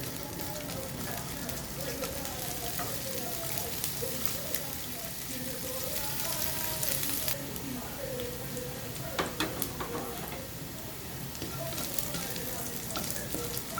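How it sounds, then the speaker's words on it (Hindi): Capsicum (bell pepper) frying lightly in a pan for restaurant-style vegetable fried rice, a steady soft sizzle running throughout with occasional stirring clicks, while someone talks over it at times. "इसको भी हल्का सा फ्राई कर लूँगी।"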